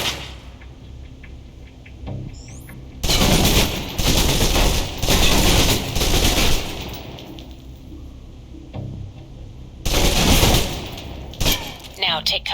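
Submachine gun fire in the shooting game Alpha Protocol, a long sustained burst emptying the magazine and then a second shorter burst, loud and close over a steady background hum.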